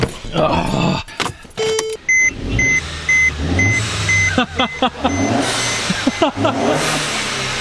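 A Mercedes-Benz C250 (W204 C-Class) engine starts and revs loudly close by, with a repeated electronic chime beeping as the motor roars and settles, and a voice briefly heard.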